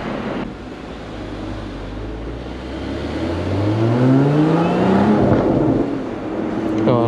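Lotus Emira prototype on a road drive, its engine droning steadily and then rising in pitch as it revs, loud and close with no talk; sharp exhaust pops are not clearly distinct.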